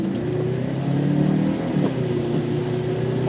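A turbocharged car engine revs hard at full throttle, a loud, steady, sustained roar with strong low harmonics that rises slightly and holds throughout, no voices.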